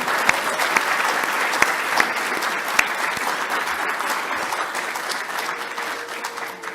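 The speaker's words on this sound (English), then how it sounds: "we'll give them another round of applause, will we?" A graduation audience of gowned graduates and guests applauds steadily, a dense, even wash of clapping with a few sharp claps standing out, fading slightly toward the end.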